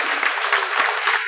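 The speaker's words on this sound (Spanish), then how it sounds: "Un aplauso fuerte." Steady, dense applause from a church congregation, loud and close, filling the short stretch without pause.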